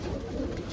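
Caged young pigeons give a brief, low, continuous cooing murmur close by.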